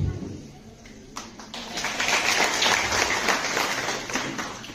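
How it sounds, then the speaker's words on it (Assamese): Applause from an audience at a school gathering swells from scattered claps into a dense, fairly close wave that fades slightly at the end, following brief talk at the start. "আপোনালোকে হাত চাপৰি মাৰিছে,"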